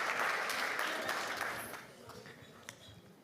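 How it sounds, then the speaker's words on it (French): Audience applause at an awards ceremony, a burst of clapping from a crowd that starts loud and gradually thins and fades over a few seconds. "On peut vous applaudir pour votre présence ici parmi nous."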